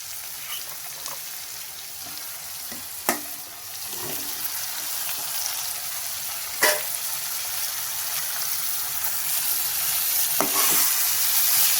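About a quarter kilo of cleaned, washed bitter gourd fries in oil in a pan for pavakkai puli kulambu, making a steady hissing sizzle with a few sharp stirring knocks.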